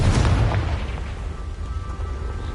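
A Confringo blasting spell in the Hogwarts video game lets off a deep, booming explosion at the start that rumbles and slowly fades into a low, lingering roar.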